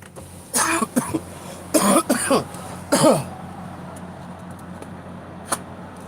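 A person coughs several times in quick bursts, close and loud, then a quiet pause with faint background hum.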